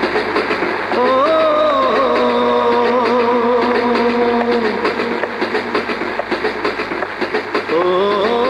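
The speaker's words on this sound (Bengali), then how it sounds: "সবসময় দেখি ট্রেনের শব্দ শুনেই কোথায় যেন হারিয়ে যাও?" A train passes close by, loud and steady, with wheels clacking in rhythm under a sustained tonal squeal or horn-like whine, and the rolling rumble carries on to the end.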